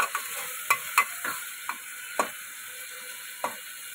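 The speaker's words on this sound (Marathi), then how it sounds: "आता आपण याच्यात कांदा टमाटा जास्त दोन्ही पण टाकून आता आपण हे सर्व हलवून" Onion and tomato being stirred together in a pan on the stove, with a thin steady hiss beneath a handful of separate spoon scrapes and taps spaced about half a second apart, nearby and quiet, with no voices.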